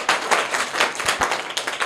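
An audience claps loudly for a child's correct quiz answer at a classroom or school event, many hands striking in a dense, uneven patter that stays steady for about two seconds.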